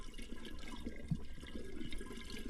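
Stream water gurgling among stones in winter taiga, a soft, steady trickle and burble close by, uneven but continuous, with no talking.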